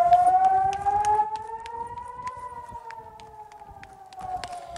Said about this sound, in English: This is that moment captured on camera, bomb sirens blaring as Katie ran for shelter